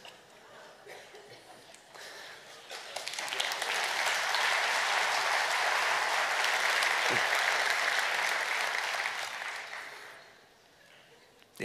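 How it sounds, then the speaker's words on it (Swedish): Spontaneous applause from an audience builds from scattered claps into a steady, full round of clapping with light laughter, then fades out. "det är definitivt första gången jag har fått en spontan applåd"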